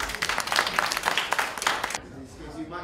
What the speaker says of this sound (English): Take a seat, give him a round of applause.